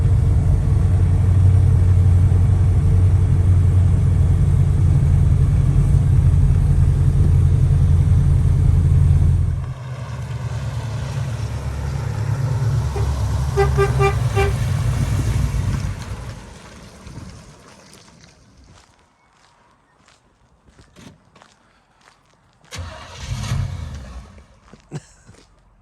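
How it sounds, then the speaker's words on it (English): A cold-running 1950 Plymouth Deluxe, off the road for 23 years, drives with a loud, deep engine rumble that drops in level and then fades. The engine goes mostly quiet with scattered clunks and rattles, then gives a brief final surge. "so we're driving the 50 Plymouth, and we're having to feather the brake and the clutch at the same time"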